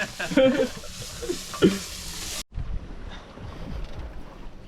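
Food deep frying in a pan aboard a sailboat at sea, a steady sizzling hiss with wind and boat noise around it, briefly cut off midway before a quieter continuing hiss.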